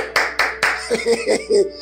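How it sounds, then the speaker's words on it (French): Three sharp, close hand claps in quick, even succession from a pastor during a church sermon, followed by his speaking voice. "J'applaudis."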